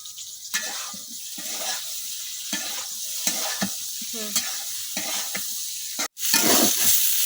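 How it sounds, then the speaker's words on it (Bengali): Eggplant frying over high heat in a pan sizzles loudly and steadily, with repeated sharp scrapes and clacks of a stirring utensil and a brief pause near the end before the hiss returns. "বেগুনটা ভাজার সময় কিন্তু আগুনটা খুব বেশি দেওয়া লাগবো"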